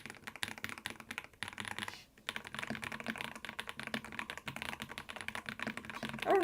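Fast, steady typing on a mechanical keyboard with unlubed switches, a dense stream of close clicky keystrokes with one brief pause partway through.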